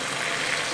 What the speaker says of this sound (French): on va déglacer avec le vin blanc